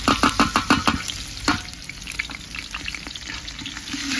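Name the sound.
onion and garlic frying on wood stove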